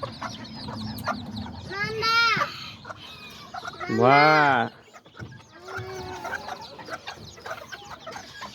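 Small chickens and roosters, Azteca kikiriki birds, cluck close by with two loud, drawn-out squawking calls in the middle and softer clucks around them, while a person speaks briefly.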